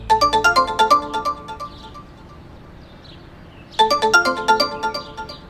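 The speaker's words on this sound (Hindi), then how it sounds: "मन्नू ने मोबाइल देखा, शिवानी कॉल कर रही थी।" A mobile phone's ringtone for an incoming call plays a bright, tinkling melodic phrase, falls silent for nearly two seconds, then starts again, loud and close.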